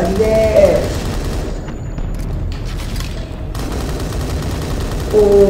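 Gunfire in the blocky shooter game Blockman Go Block Invasion comes as loud bursts of game shots and booms under a dense, continuous mix of game sound effects.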